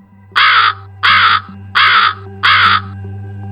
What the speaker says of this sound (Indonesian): Suara burung itu terdengar lagi dari kejauhan